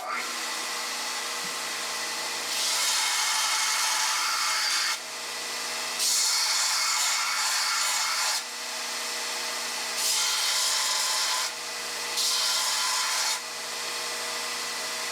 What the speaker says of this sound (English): my chisel bit's a little bit dull, so take it over to the belt grinder, sharpen it up